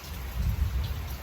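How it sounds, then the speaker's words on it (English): Heavy rain falls in a steady, dense wash of noise with a low rumble beneath, brief and fairly quiet, with no voices. "since morning, the rain has been falling and falling heavily."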